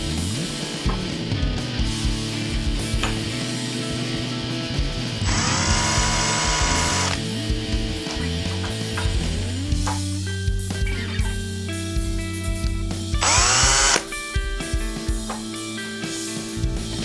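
A power drill boring pilot holes during a Pontiac Firebird car restoration, with two distinct whirring bursts of a few seconds each rising over a steady musical background.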